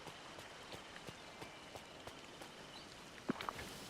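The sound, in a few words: rain in Disney Dreamlight Valley video game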